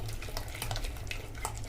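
Ghevar batter of ghee and flour mixed with chilled water is stirred in a vessel, giving soft, close, wet sloshing and scraping strokes that repeat in an uneven rhythm with no one speaking.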